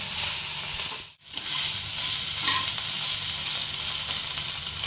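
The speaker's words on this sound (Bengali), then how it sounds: "লাল করে ভেজে নিচ্ছি" Spices and turmeric sizzle loudly in a hot pan while frying for a soybean and chickpea dal, a constant crackling hiss that briefly drops away once before resuming.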